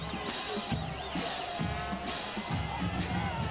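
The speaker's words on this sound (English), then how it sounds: "Great crowd we have here at C.A." A crowd cheers and shouts in the stands at a high school football game at C.A. Douglas Field, a steady distant roar of voices with faint whoops, under no close talk.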